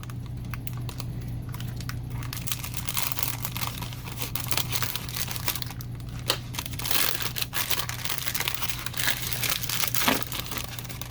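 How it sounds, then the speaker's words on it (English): Close crinkling of plastic packaging being cut open with scissors, with rapid crackles and rustles continuing throughout and no voices. "How about I use scissors?"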